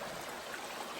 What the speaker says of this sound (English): This is one of the cleanest streams in Maryland.